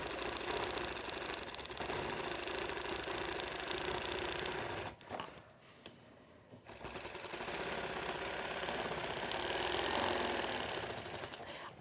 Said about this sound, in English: The first thing I'm going to do is stitch in a ditch around this middle square to secure it.